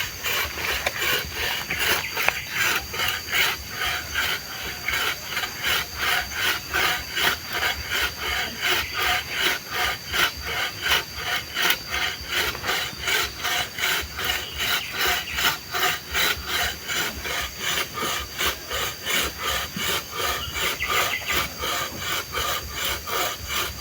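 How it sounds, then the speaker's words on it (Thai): A hand saw cuts through a large piece of wood in a long run of steady, rhythmic back-and-forth strokes, each rasping stroke loud and close, continuing without pause. "เลื่อยไม้ใหญ่เนาะเอาเลื่อยเอา"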